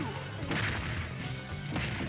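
Ganondorf's powerful up smash landing in Super Smash Bros., a loud crashing hit with a whooshing burst and a second impact near the end, set against busy game music and noise.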